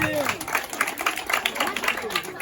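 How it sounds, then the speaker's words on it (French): Audience applause at a school end-of-year celebration for a little children's centre in Diawara, a steady stretch of dense clapping from a crowd with some murmuring voices mixed in. "sous vos applaudissements s'il vous plaît"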